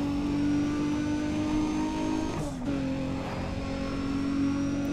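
A race car engine in Need for Speed: ProStreet drones loudly at high revs, with a brief dip around a gear change before the steady tone climbs again.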